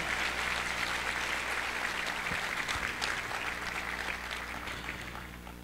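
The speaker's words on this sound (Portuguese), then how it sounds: "Salva de palmas" An opening-ceremony audience at an international congress applauds an announced guest, a steady, fairly distant wash of clapping in a large hall that slowly fades.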